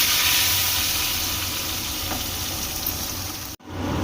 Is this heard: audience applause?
no